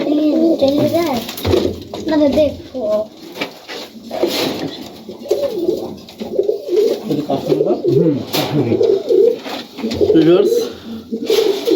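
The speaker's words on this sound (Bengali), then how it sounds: "অনেক চমৎকার মাসাল্লাহ অনেক চমৎকার একটি কবুতর" Highflyer pigeons in a loft in Rajshahi coo in soft, repeated low burbles throughout, close by, under someone speaking in Bengali.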